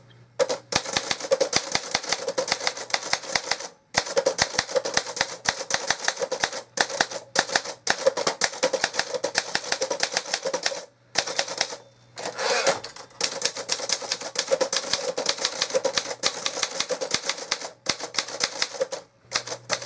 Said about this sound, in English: you can take and put this on your lap and type with it and not have any problems